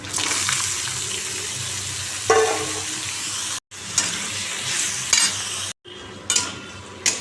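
Bottle gourd cooking in a pan, with a steady wet hiss and sizzle and a few stirring scrapes, close and moderate in level, cut by two brief silent gaps.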